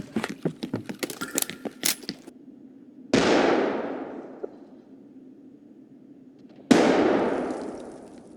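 Two grenade explosions in the shooter game Escape From Tarkov, each a sharp blast with a long decaying rumble, a few seconds apart, following a burst of rapid gunfire and clatter.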